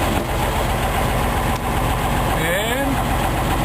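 An M35 deuce-and-a-half military truck's engine idles steadily with a deep, continuous rumble while the winch is being set up, close and loud with no clear break.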